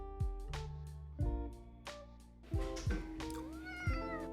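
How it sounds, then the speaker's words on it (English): A pet cat meows for a share of milk at breakfast, several short clear calls spaced about a second apart, close by with a steady low background hum. "But sometimes Gibby, our cat, comes to bother me for his share of milk too."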